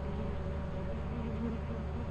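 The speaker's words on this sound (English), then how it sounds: "Should we try for the bees?" Steady, continuous buzzing of a bee hive in the game Lethal Company, a low droning hum that holds evenly throughout with faint voices underneath.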